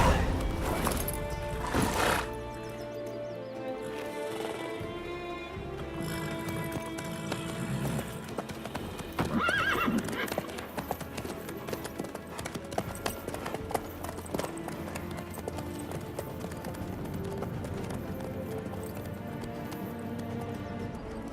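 A horse in The Witcher 3 clip-clops steadily at close range, its even hoofbeats running through the whole stretch under game music and occasional talking voices.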